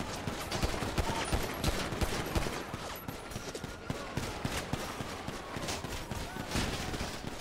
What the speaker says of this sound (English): They're shooting at the heli?